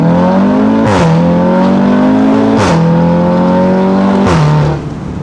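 Car engine with a loud aftermarket exhaust, revved hard three times in a row, each rise to a high roar followed by a sharp drop, close and loud with no talking.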